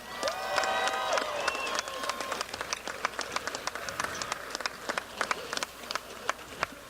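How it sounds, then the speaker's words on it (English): An audience at a high school graduation applauds the school band, with dense steady clapping and some cheering while a few sustained musical tones fade out at the start, then sharper individual claps continue to the end. "let's have a nice round of applause for Mr. Rob Loveridge and the Helena High Sc"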